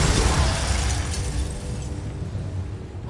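A Confringo fire spell blasts in Hogwarts Legacy, a loud, broad burst that rumbles and slowly fades over a few seconds, with no voices.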